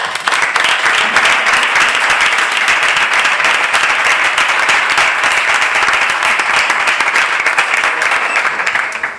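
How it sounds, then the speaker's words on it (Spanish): Loud, dense applause fills a hall at a party citizens' council meeting, sustained and even throughout as a large audience claps for an arriving speaker. "Bienvenido y un aplauso, compañero."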